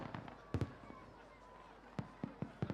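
Fireworks at the British Firework Championships burst in a series of sharp bangs at a distance, irregularly spaced, with a faint whistling trail of silver-tailed shells rising between the reports.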